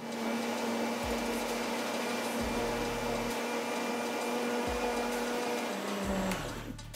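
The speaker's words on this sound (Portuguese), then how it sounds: "senão vai queimar meu liquidificador" A blender mixing oil into a sauce whirs steadily at close range, its motor pitch dropping and surging in a few short bursts before shutting off at the end.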